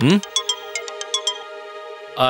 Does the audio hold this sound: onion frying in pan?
no